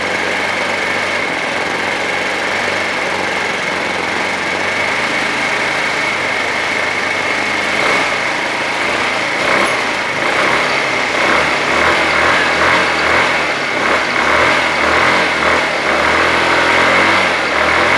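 A Chinese GY6 scooter engine runs steadily and loudly for the whole stretch, a continuous close-up motor drone with no pauses and no talking.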